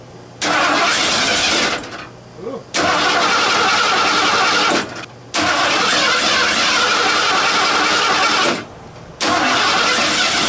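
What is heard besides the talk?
Ford Bullnose truck engine starting with new carburetor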